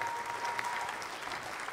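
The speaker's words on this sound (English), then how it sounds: "y'all clapping for Josh" Steady applause from a church congregation during a Sunday morning service, a dense even patter of many hands held for the whole stretch, moderately distant with no voices rising above it.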